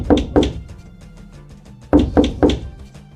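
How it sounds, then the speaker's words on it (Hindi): Heavy knocks strike a door in a horror-story scene: two loud thuds, a pause, then three more in quick succession, close and resonant with no voices. "लेकिन फिर वही दस्तक और ज्यादा जोर से गूंजी"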